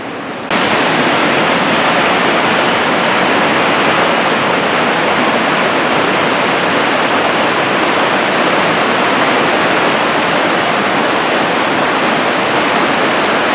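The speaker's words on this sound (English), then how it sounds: "now we've crossed over to the ridge and you can hear the river down below us" The Ohanapecosh River rushes below a forest trail at Mount Rainier National Park, a loud, steady broadband roar of whitewater that continues unbroken throughout.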